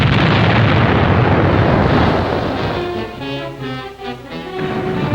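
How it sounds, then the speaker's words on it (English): A 350-pound TNT depth charge from a destroyer explodes underwater: a heavy, roaring blast of churning water dominates, then subsides into a rumbling wash with faint tonal background. "The depth bomb explosion is so violent that any submerged U-boat in the vicinity must be sunk"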